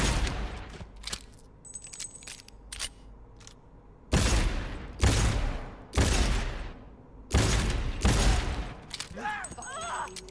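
Heavy gun in a video game fires several loud, booming shots spaced about two seconds apart, each with a long decaying tail, amid quieter game clatter and effects.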